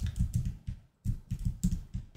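Keys tapped on a computer keyboard in quick bursts while entering a word into a design program, close and fairly soft, with a brief pause midway and no talking.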